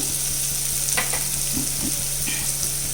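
Chicken rice with wilted cabbage sizzles in a pan while pepper powder, garam masala, chili flakes and oregano are stirred in, with soft scraping and clinks of the spatula over a steady frying hiss.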